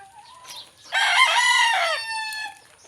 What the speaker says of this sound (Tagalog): Ang ganda mga malalaking manok.